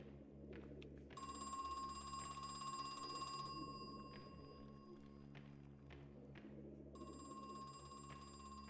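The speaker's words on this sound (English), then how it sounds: "Get the phone in a moment, hold on." An old telephone rings in the horror video game Crow Country, its repeated electronic trill sounding loud and close in two bursts over a steady low ambient drone.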